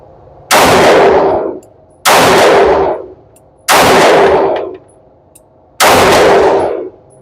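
Four loud pistol gunshots from a Canik TTI Combat or Sig P365 AXG Legion fired at a range, evenly spaced about 1.5 seconds apart, each a sharp crack with a long ringing decay.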